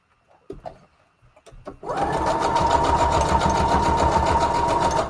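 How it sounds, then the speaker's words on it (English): A sewing machine running a straight stitch on junk-journal craft embellishments, a few handling clicks then a loud, steady close-up whirring rattle that continues to the end. "We'll do a straight stitch now."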